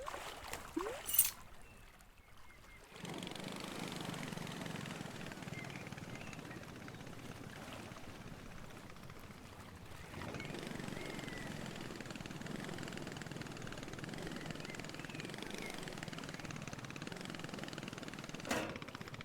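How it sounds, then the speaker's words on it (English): A small motor boat engine starts up and drones steadily in the video game A Short Hike, a quiet buzzing hum that shifts up in level partway through, preceded by a brief click and pause. "I'm renting the boat now."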